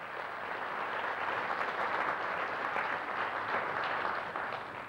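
Applause at an association general assembly, a steady, fairly quiet wash of many hands clapping from a seated audience, even in level across the whole stretch.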